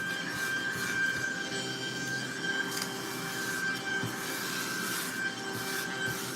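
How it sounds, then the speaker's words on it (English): A small desk vacuum sucks up glitter during a manicure setup, a steady whirring motor whine with a sustained high tone and scattered rattling ticks of particles, with no talking. "This is my desk vacuum."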